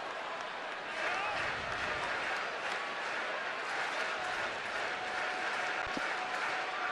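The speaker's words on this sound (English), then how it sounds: "Big crowd at AT&T Park" A big crowd at AT&T Park cheers and applauds steadily during a Giants–Dodgers baseball game, a dense continuous roar of distant clapping and voices, with a commentator talking over it.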